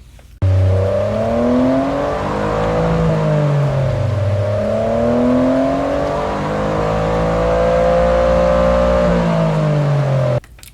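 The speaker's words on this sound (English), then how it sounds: "3-piece exhaust system that I showed you on the exterior portion of this video, and it sounds pretty good too" A 2023 Toyota GR Corolla's engine revs loudly through its three-piece exhaust for several seconds, its pitch rising and falling in smooth sweeps before cutting off abruptly.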